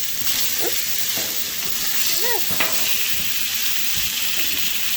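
Steak searing on a Blackstone griddle, with bacon grease underneath, makes a steady, close sizzle and hiss throughout, broken by a few brief faint tonal sounds.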